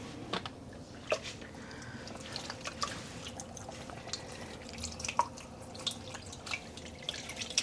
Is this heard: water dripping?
yes